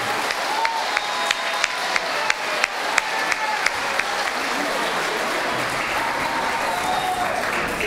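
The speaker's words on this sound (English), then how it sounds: "Another round of applause for our 7th and 8th grade band." Audience applause after a middle school spring concert by the 7th and 8th grade band, a steady wash of many hands clapping that holds throughout, with a few sharper individual claps standing out early on.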